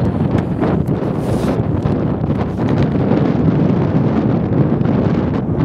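Steady, loud wind buffeting the microphone outdoors on Bodmin Moor, Cornwall, a continuous rumbling roar with no voices.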